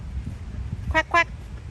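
A pair of short, nasal duck quacks from ducks at an outdoor spot in Ohio, sounding close and clear over low, rumbling background noise.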